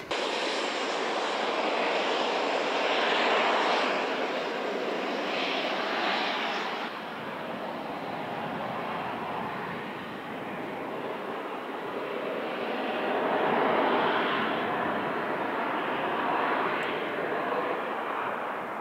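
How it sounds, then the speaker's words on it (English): A flying jet suit with two small jet engines on each arm and a larger one at the waist, about 1,000 horsepower, tested at a zipline site. It gives a steady, loud, wide roar that swells and eases slightly, with no speech. "There's two small jet engines on each arm and one larger one around my waist at the back."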